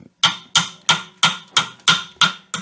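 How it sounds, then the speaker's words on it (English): A chip hammer knocks slag off an arc weld laid with a 1/8 inch rod on a Sefaspe ARC 200 Pro 110 volt welder. Seven sharp, evenly spaced metallic taps ring out close to the listener. "So I'm going to use their chip hammer,"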